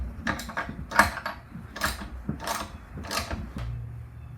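An old engine that sat for years in a barn, spark plug removed and penetrating oil in its dry cylinder with stuck rings, is turned over by hand: about five close, clanking mechanical bursts in uneven rhythm, ending in a low steady hum.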